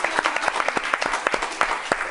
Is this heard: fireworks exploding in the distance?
no